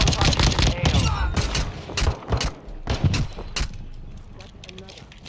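Video game shooter gunfire, dense rapid bursts of shots and a mechanical clatter, loud at first and thinning out toward the end, with voices talking over it.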